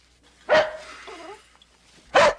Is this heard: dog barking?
yes